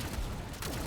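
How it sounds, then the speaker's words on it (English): Crossbow in the video game Saros loosing a rapid volley of charged energy projectiles, heard as a dense, continuous burst of crackling shots lasting under a second with no talk. "Charged energy projectile. Crossbow. Hold to fire a volley."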